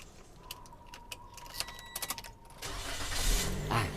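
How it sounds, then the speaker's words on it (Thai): A few sharp clicks and key rattles, then a Toyota Vios engine cranks and catches, settling into a steady idle nearby. "สตาร์เครื่องเรียบร้อย"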